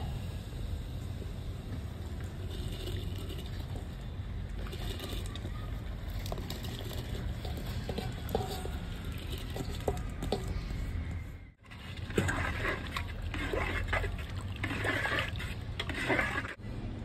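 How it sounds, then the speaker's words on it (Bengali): Water at a full boil in a pot for Hyderabadi egg dum biryani rice gives a steady bubbling hiss that carries on close by. It breaks off briefly partway through, then returns just as strong. "জলটা এবারে খুব ভালো করে ফুটে গেছে"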